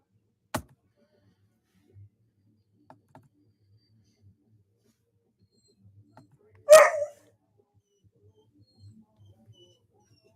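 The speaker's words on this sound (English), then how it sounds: "Sorry about the dogs in the background" Dogs barking in the background of a home setting: one short, faint, distant bark stands out midway through an otherwise quiet stretch, with a few soft clicks scattered around it.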